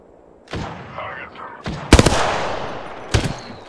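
Gunfire in a video game: several sharp, loud shots, one near the start, a tight double burst in the middle and another toward the end, over a steady background of game noise.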